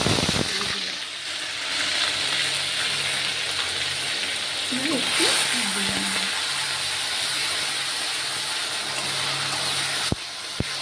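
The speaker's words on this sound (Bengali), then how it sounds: "তেলটা গরম হয়ে গেছে, এবার কাঁচা লঙ্কা, পেঁয়াজ আর রসুনের পেস্ট" Green chillies, onion and garlic paste fry in hot oil, a constant broad sizzle near at hand, with faint stirring and someone talking quietly over it.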